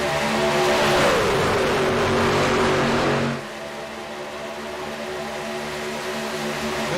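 Race cars running neck and neck at Atlanta Motor Speedway: a loud, steady engine roar with a falling pitch as a car passes, then dropping to a quieter, continuous distant drone.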